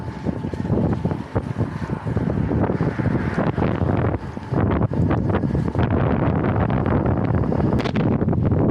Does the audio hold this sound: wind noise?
yes